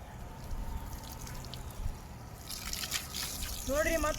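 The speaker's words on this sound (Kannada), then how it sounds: "ಗಿಡಕ್ಕೆ ನೀರು ಹಾಕತ್ತೀರಿ." Water trickles and splashes steadily as it is poured onto garden plants and bamboo on a hot, sunny day, with people talking over it and the level rising toward the end.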